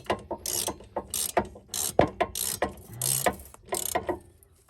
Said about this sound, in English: we're just going to tighten down these 2 bolts a little bit with the ratchet